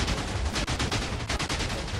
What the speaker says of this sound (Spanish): Se ve por ahí la explosión.